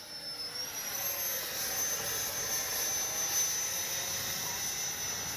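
An E-flite 64mm Viper RC electric ducted-fan jet flies past with a steady, high-pitched whine and airy rush that holds at an even loudness, with a faint rising tone near the start.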